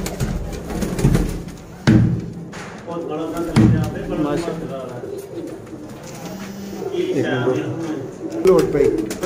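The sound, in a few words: pigeons cooing, Sialkoti pigeons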